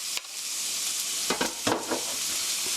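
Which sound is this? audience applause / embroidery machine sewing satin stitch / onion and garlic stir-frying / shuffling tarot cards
onion and garlic stir-frying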